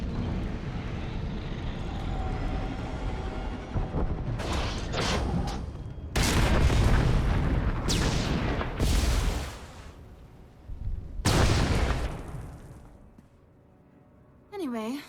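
Explosions in a spaceport in the game Star Wars: The Old Republic, with several loud booming blasts that come in bursts over a steady rumbling background, then die away to quiet near the end.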